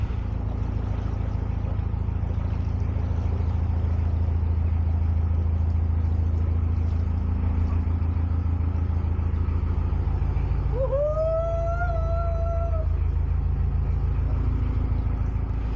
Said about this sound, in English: That's a slam of boat into reverse then